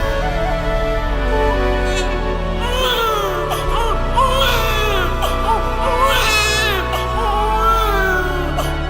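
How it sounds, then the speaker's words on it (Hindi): An infant cries loudly and continuously in wavering wails during a night stage performance of Krishna's birth in Mathura, over a steady low drone. "अरे ये तो बच्चे के रोने की आवाज है।"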